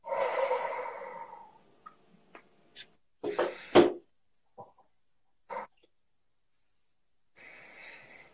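A person breathing deeply during an emotional freedom therapy session: a long audible exhale, then short sniffs and breaths with pauses, ending in another soft exhale, close and quiet with no talk.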